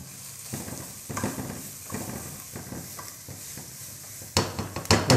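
A small onion sautéing in a drizzle of olive oil, a light sizzle broken by scraping stirs and a few louder clanks of utensil against pan near the end, with no talking.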